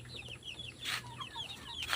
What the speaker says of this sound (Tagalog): sobrang laki kong inahin